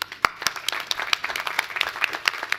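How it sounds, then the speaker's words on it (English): A round of applause rises from the crowd at a university graduation ceremony, dense overlapping clapping with distinct sharp hand claps popping out near the front, continuous and fairly close. "all of our student journeys need a round of applause"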